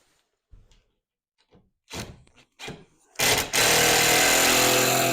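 A power tool drives screws into a model train command station, starting with a few short bursts of handling and clicks, then a loud, steady, close whirring run that fills the rest of the clip.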